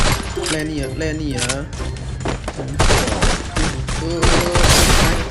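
Rapid gunfire from the Free Fire battle game in a 4vs4 mode, sounding in repeated bursts under constant excited talk from several players close to the microphone.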